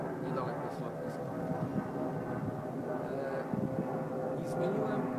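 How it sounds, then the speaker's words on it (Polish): An airplane passes overhead near an airport in England, a steady broadband roar that fills the whole stretch at an even, moderate level. "samolot nie przeszkadza, niedaleko jest lotnisko."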